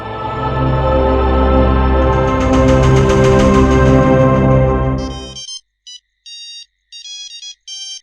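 A phone rings loudly with a melodic ringtone for an incoming call, a rich tone that sustains for about five seconds and then breaks into several short bright beeping bursts before stopping.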